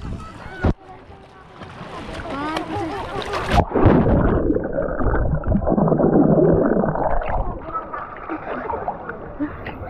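Water splashes and sloshes continuously as people swim in the sea, close by, with a few sharp slaps early on and chatter from people mixed in.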